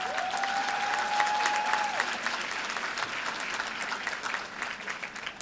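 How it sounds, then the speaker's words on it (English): Audience at a luncheon bursts into sustained, dense applause, loud and even throughout, with a brief whistle-like tone early on and no speech. "A big round of applause."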